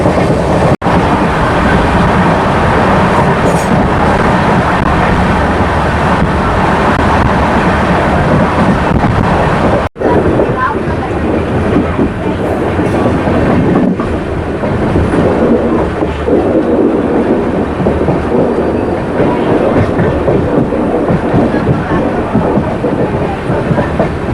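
The Rockfort Superfast Express train rumbles loudly and steadily on its Chennai to Tiruchirappalli run, with continuous rushing and clattering of wheels on track, wind buffeting throughout.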